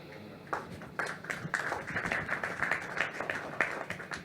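Applause for an IT consultant at a turnover and induction ceremony: a crowd's scattered clapping starts after a half-second, builds into a steady patter and continues to the end at moderate distance.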